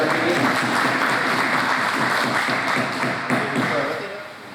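A mushaira crowd in Sialkot claps steadily and enthusiastically, the applause holding for several seconds before gradually fading.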